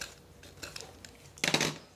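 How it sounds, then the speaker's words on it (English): An X-Acto knife shaves the edge of a peel-and-stick vinyl tile, giving a few light, close scraping ticks, then a louder rasping stroke near the end, with no talking. "I shave it with an X-Acto knife"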